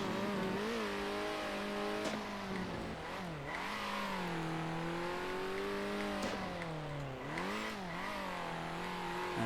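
A race car in the Circuit Superstars racing game accelerating through a corner, its engine whining and rising and falling in pitch in repeated sweeps as it revs, a continuous close motor drone throughout with no talk.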